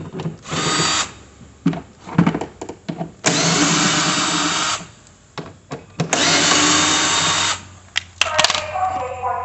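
Loud bursts of a power driver whir on and off as bolts come out of a Craftsman SB270 21-inch 208cc snow blower during assembly, with several long runs and short blips close by.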